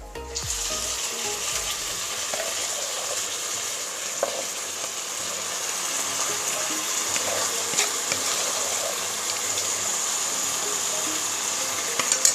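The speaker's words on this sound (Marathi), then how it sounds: "आता आपण याच्यामध्ये घालूया ही शिजवलेली खीर." Cooked kheer being poured into a pan of fried dry fruits, a steady loud sizzle and frying hiss throughout with a few small splashes and stirring clinks.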